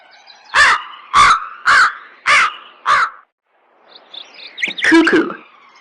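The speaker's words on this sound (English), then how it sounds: "Crows are very sociable birds and they can live in close association with humans." A crow gives five loud, harsh caws in a steady, evenly spaced series, then a pause and a rougher cluster of calls, close and clear with no voices.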